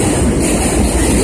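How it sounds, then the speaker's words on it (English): A subway train at the Brighton Beach station in Brooklyn, New York gives off a loud, continuous roar of wheels and rails that fills the whole moment with dense, unbroken noise. "Wait for the train to come."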